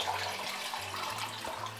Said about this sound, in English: So I'm just going to add cool water to it.